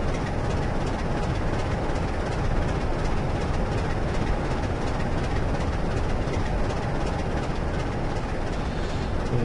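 A video game train in Train Simulator 2013 on the Great Western Main Line between Oxford and Reading rumbles steadily along with a dense, continuous roar and faint rhythmic clatter, loud and unbroken throughout.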